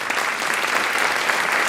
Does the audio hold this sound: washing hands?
no